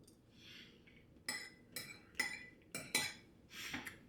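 Cutlery clinks and scrapes on a plate during a meal with homemade pico, a handful of sharp close taps in quick succession over a quiet room.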